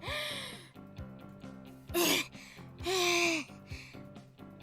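A voiced female character, Mion in the Higurashi visual novel game, pants and gasps heavily for breath in several drawn-out, breathy heaves over soft background music.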